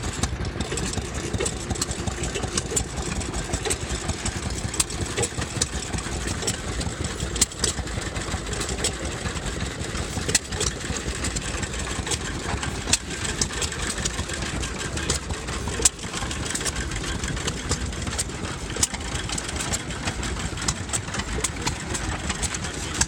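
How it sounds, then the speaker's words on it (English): A 1910 Fuller Johnson 1-horsepower farm pump engine with a pump jack attachment running steadily, a continuous mechanical chug with periodic louder knocks and clatter throughout. "Fuller Johnson farm pump engine from 1910. It's a 1-horsepower with serial number 23185."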